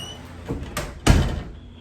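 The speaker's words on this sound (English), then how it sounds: "Let me go close her door to her room." A bedroom door swings shut at home, with a soft thump first and then a louder solid bang near the end, nearby in a quiet room.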